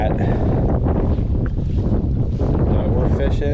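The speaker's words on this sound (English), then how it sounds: "yeah, it is that windy out here" Strong wind on a lake buffets and roars across the microphone in a dense, loud, continuous rumble from a boat on the water, with talk partly buried underneath.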